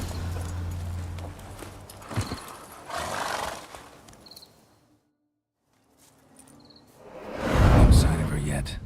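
Geralt's horse Roach from The Witcher 3 clip-clops and whinnies up close, with hoofbeats and ambient crickets and insects, a quiet pause midway, then a loud burst of horse movement and snorting at the end.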